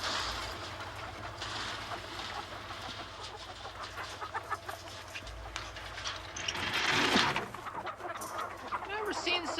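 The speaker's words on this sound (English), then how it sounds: "Never seen such nervous chickens." Nervous farm chickens cluck and squawk in a busy mix, with a louder burst of agitated fowl near the end, under people talking and background noise.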